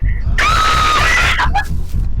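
A person screams loudly in a sustained high wail lasting about a second, followed by shorter cries, with talking close by in a rowdy setting.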